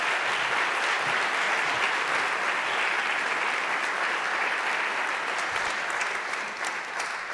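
Academics and students at a conference in Padua are applauded by the audience, a dense, steady round of clapping from a large crowd that holds for several seconds and softens slightly at the end.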